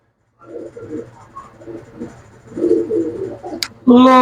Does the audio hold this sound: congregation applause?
no